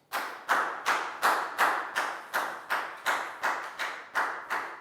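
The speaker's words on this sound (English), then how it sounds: "Big round of applause for Nadia" Rhythmic clapping from a Year 4 class in a math lesson, about a dozen evenly spaced sharp claps in a steady beat, each with a short room decay.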